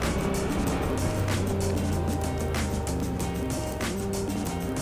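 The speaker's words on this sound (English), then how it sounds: "it's almost a good throaty rumble, like a cruiser" A motorcycle engine idles with a low, throaty rumble, steady and close, with a slightly uneven pulsing tone throughout.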